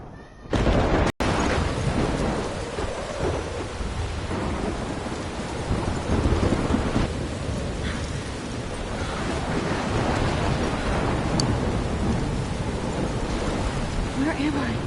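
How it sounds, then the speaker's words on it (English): Thunderstorm with heavy rain and wind in the video game Life is Strange, near a lighthouse: a dense, loud roar of rain and wind with rumbling thunder throughout, opening with a sudden sharp burst. "I'm trapped in a storm?"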